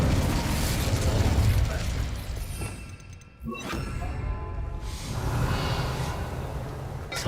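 An Incendio fire spell cast in Hogwarts Legacy flares up as a brief whooshing burst midway through the clip, set against dense, constant game ambience and music.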